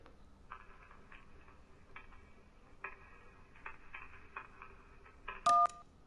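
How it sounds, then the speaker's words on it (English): A phone book burning in the video game Kentucky Route Zero: a muffled, crackling, tonal rustle with scattered sharp bursts over about five seconds, cut off by a brief loud keypad beep near the end. "That was someone burning a phone book."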